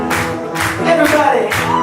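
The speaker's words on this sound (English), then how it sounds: "Let me see you clap, people. Everybody clap." Live unplugged full-band concert crowd clapping along in steady rhythmic beats, loud and close, mixed with music and cheering.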